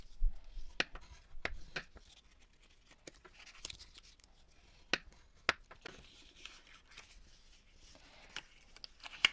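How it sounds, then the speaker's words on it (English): Bone folder drawn along scored lines on card stock: faint, close scraping strokes and sharp little taps, spaced irregularly over a quiet background. "So I'm going to go ahead and use the bone folder on all those lines."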